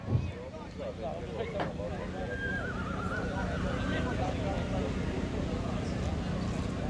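At a draft horse pulling competition in Satu Mare, Bucovina, a horse gives a long whinny over steady wind and crowd noise outdoors.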